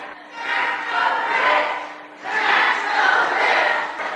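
Angry crowd shouting and roaring in two long sustained waves at a town hall meeting in Nebraska, loud and dense, with a short dip between swells.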